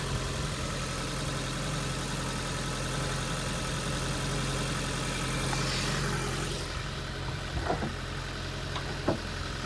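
A Maruti Suzuki Baleno Alpha car engine in good condition idles with a steady low hum and even drone. Near the end it eases off and a few faint clicks follow.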